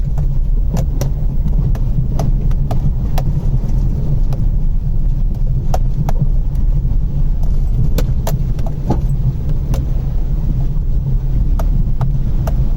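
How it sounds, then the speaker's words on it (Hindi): Maruti Celerio hatchback with 170 mm ground clearance driving through a rocky stream near Rajaji Tiger Reserve, with a steady loud rumble of engine and rushing water and repeated sharp knocks from stones under the car. "170 mm ग्राउंड क्लियरेंस की सिलेरियो गाड़ी है और आराम से निकल गई"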